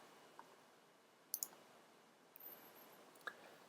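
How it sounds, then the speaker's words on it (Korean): Two quick mouse clicks from pressing a submit button on a coding-exercise web page, sharp and close, followed by a couple of fainter ticks in an otherwise quiet room. "제출 버튼을 누릅니다."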